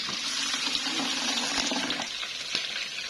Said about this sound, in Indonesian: Ini sedikit sekali airnya tuh aku saring aja